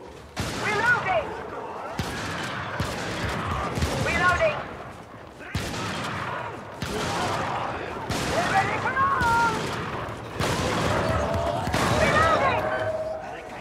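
The Punisher's shotgun fires in heavy, booming blasts spaced roughly a second or two apart in a video game, each shot loud and close with a ringing tail, while someone talks between and over the shots.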